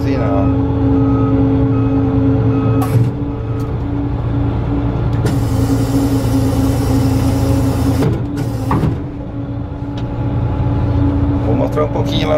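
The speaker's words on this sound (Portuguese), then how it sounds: "Ré, levanta a plataforma e buzina." A New Holland 8055 combine converted into a TC57 Hydro sounds a steady, tonal reversing alarm over a loud engine drone, with a couple of brief breaks and clatters partway through.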